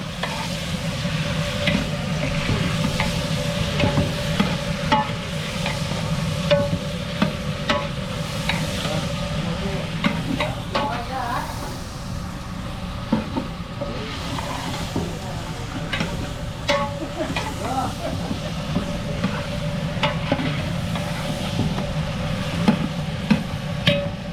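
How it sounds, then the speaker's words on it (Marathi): Pieces of cobia fish fry in oil with onion and garlic in a pan aboard a boat, a steady close sizzle and crackle with occasional stirring scrapes running throughout. "कांदा लसूणमध्ये मोरी माशाचे पीस आपल्याला शिजवायचे आहे"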